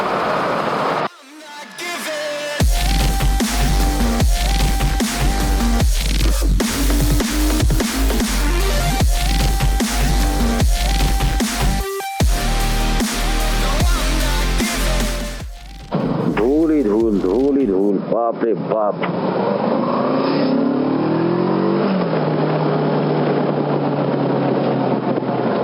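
Heavy traffic jam at Farakka Barrage, with engines droning loudly and continuously and a horn sounding repeatedly, heard from a Versys 650 motorcycle ride, before a brief break and a different, shifting rumble.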